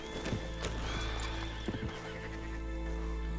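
A horse in the Red Dead Online video game lets out a clear whinny over steady clip-clop hoofbeats, with short thuds and ambient game noise around it and no speech.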